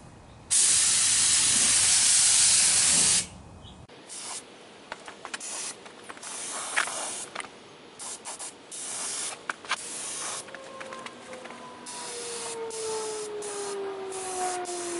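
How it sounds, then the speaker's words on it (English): Spray gun laying sealer onto a plastic bumper for a Camaro F-body, a steady loud hiss lasting about three seconds and then cutting off, followed by quieter shop noises, clicks and a faint tone. "Just poured my gun just enough to get a good coat on here."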